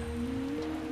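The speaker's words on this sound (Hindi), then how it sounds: "ये देख रही है मौसम की पहली बारिश" The first rain of the season falls in a short, steady patter on surfaces, with a faint constant tonal hum running underneath.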